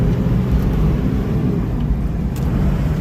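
A 60 series Land Cruiser with a swapped-in manual transmission drives along in a steady, loud engine and road rumble from inside the cab while shifting into third gear, with no distinct shift clunk standing out.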